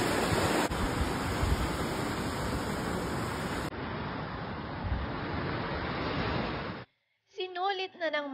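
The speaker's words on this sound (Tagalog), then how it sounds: "Malakas nga ang alon dito" Steady roaring surf of ocean waves fills most of the clip, loud and continuous, then cuts to a brief voice speaking at the end.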